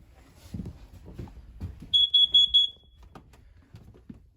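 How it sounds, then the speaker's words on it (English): A smoke alarm in the master bedroom of a 2015 Keystone Bullet travel trailer emits four quick, piercing high-pitched beeps in a row, with faint movement and shuffling sounds before and after. "Smoke alarm here."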